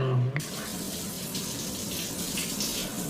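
Water runs from a shower in a steady, hissing stream at moderate loudness after a brief sound at the very start, continuous and unbroken with no talk.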